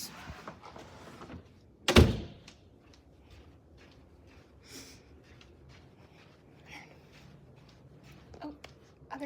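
An apartment door in a building hallway opens and closes, one sharp thunk of the latch near the start, then quiet room tone with faint rustling and light movement.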